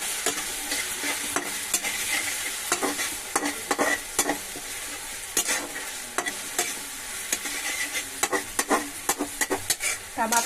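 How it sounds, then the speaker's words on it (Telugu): Tomatoes fry in a pan, with a bitter gourd curry cooking alongside, giving a constant sizzle. Frequent sharp scraping strokes of a spoon stir them in an irregular rhythm, loud and close. "టమాటాలు బాగా వేగుతున్నాయి."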